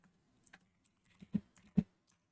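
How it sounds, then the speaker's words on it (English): Quiet typing on a computer keyboard: a short run of scattered soft key taps with two firmer presses near the end, close and alone. "So let's just type up GLD."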